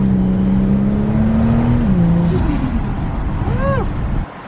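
From inside a Ford XR6 Turbo accelerating hard under boost, the engine drone climbs steadily, dips at a gear change, then keeps pulling as the roar grows loud and close before easing off.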